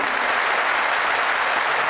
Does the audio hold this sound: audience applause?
yes